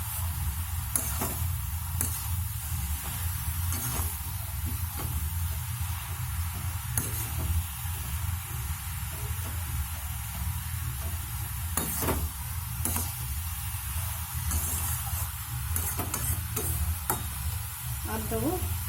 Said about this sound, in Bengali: এবার ভালোভাবে মিশিয়ে নেবো নারকেলের সাথে আমাদের চাল কুমড়োটা।